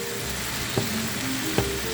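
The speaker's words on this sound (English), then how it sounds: "So I just want this fry up a little because everything is already cooked." Chunks and already-cooked vegetables frying in a pan for fried rice, a steady close sizzle broken by two brief stirring knocks.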